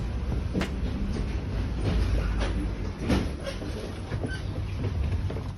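Steady rumbling rattle of a moving tram heard from inside, with occasional clunks and clacks over a continuous low drone.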